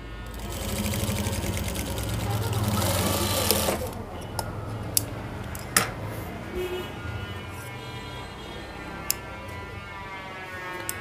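A sewing machine stitches a Panjabi (kolidar) garment in a fast whirring run lasting several seconds. It stops, leaving quieter handling noises and a few sharp clicks.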